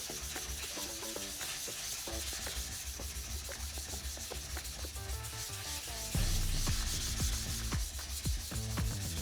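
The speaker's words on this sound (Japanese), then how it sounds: "で切り刃とか研いだら、結構砥石減ってるので一回面直しをしてあげましょう" A worn whetstone is flattened by rubbing after sharpening a single-bevel knife, giving a steady, close, gritty scraping in repeated back-and-forth strokes with a few brief clicks.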